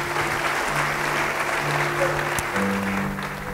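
Church congregation applauding during a sermon, a broad wash of clapping with a sustained tone and some voices underneath, steady for a few seconds before easing slightly.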